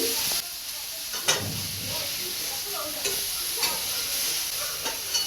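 Steady oil sizzle from a pan of frying sesame fritters, with occasional clinks and scrapes as pieces are lifted out.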